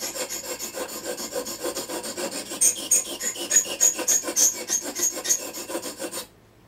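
A file rasps steadily across a Tusq saddle being shaped for a Martin D42 acoustic guitar, with repeated close scraping strokes that grow a little louder midway and stop abruptly near the end.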